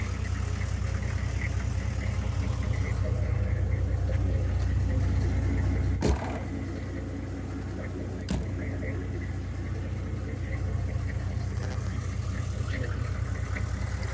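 A 1994 GMC Yukon two-door 4x4 with a 6.5L turbo diesel drives along, its engine a steady low rumble throughout, broken by two sharp clicks or knocks partway through.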